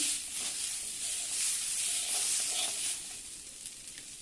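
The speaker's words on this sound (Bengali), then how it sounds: "ডালটা হালকা করে একটু ভেজে নেব" Lentils are lightly fried with onion in a pan, giving a steady bright hiss of sizzling oil at moderate volume with faint stirring, no voices.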